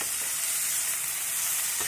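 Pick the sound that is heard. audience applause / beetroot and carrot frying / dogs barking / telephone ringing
beetroot and carrot frying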